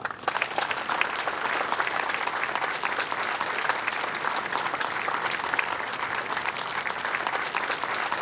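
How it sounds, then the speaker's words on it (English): A crowd gives dense, steady applause for youth mural artists in a Quad City Arts apprenticeship program, loud and continuous throughout without a break. "Let's give them a big round of applause."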